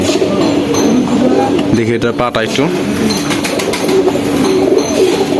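Local red high-flyer pigeons coo in soft, low, repeated bursts close by, mixed in with someone talking over them.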